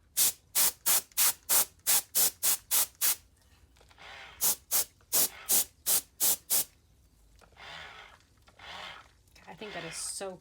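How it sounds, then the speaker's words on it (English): Canned compressed air sprays in a rapid series of short, sharp hissing bursts, about a dozen in quick rhythm, then a pause and another run of puffs before longer, softer hisses, used to blow alcohol ink across a tumbler. "So I push the button, the canned air,"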